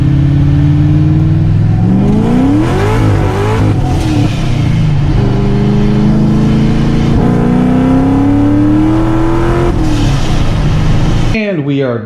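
A straight-piped Corvette with an axle dump exhaust pulls hard through second gear, its loud engine note climbing steadily in pitch close by, then cutting off abruptly near the end.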